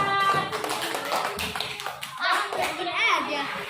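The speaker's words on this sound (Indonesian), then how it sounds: "kasih tepuk tangan untuk kelompok 4" Children in a classroom clap for a group, a short burst of close, uneven hand claps mixed with excited chatter and a teacher's voice.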